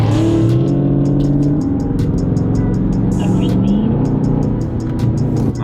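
A friend's car revving close by during a Dodge Charger Scat Pack outing, a loud engine roar with rising and falling pitch and rapid ticking above it, continuous and dominant.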